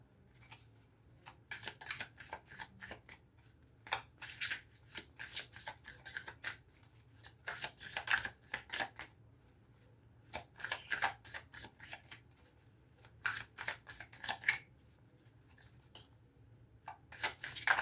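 Slippery cards being shuffled by hand: soft, close riffling and flicking sounds come in irregular clusters throughout, fairly quiet against a still background.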